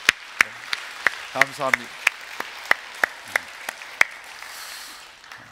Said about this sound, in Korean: 한번 우리 박수로 우리 서로 축복하면 좋겠습니다